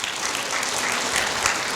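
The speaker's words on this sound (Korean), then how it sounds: "우리 그에게 격려 박수 한번 해줄까요?" Church congregation at a Sunday service giving a burst of encouraging applause, dense and loud throughout the short stretch, with no talking over it.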